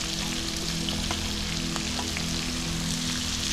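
Cut potatoes, pumpkin and eggplant sizzle steadily in hot oil in a pan, a dense, even frying hiss with faint crackles throughout and no voices.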